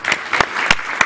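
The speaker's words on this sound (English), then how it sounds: "Let's give a good applause for that." An audience at a talk with a GIS pioneer applauds in a brief burst of scattered, close claps lasting about a second.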